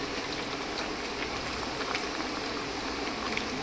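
Thepla flatbread frying in oil in a pan, a dense, steady crackling sizzle heard close and loud throughout with no pauses.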